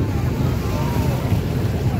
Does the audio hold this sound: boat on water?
yes